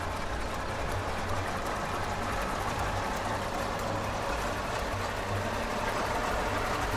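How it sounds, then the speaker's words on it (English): In Farming Simulator 17, a large self-propelled farm machine's engine runs steadily with a rattly, clanking idle, a continuous close mechanical drone without talk. "This thing sounds like the engine is made up of a bag of spanners."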